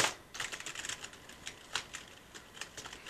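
Plastic-bodied Rii RK100+ RGB LED keyboard with a compact layout being typed on, bursts of light clicky keystrokes in an irregular rhythm, close and fairly quiet, with no talking.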